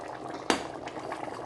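Fish and vegetables in a pot of water bubble and simmer softly, with one sharp clink of metal against the pot early on and a continuous gentle burble around it.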